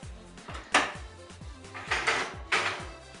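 Cupcakes go into an oven in a home kitchen: a few close metallic knocks and scrapes of the tray and oven rack, with a clunk or two of the oven door, and no talking.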